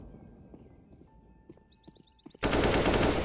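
Automatic rifle fire in a professional Counter-Strike match: faint clicks and game ambience, then a sudden loud, sustained burst of rapid gunshots close by at the end.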